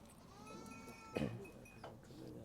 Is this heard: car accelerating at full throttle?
no